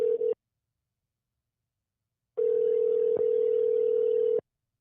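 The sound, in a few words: telephone line tone on unanswered call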